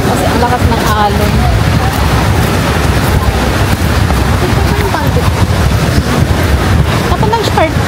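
Heavy surf churns along Boracay's front beach, a steady, loud roar of breaking water mixed with wind rumble on the microphone, with voices talking over it.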